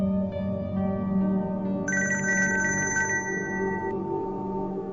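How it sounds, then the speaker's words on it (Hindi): A telephone rings with an electronic ringtone, a bright repeating warble that starts partway through and sounds loud and clear over a steady background music bed. "देखिए फोन बज रहा है"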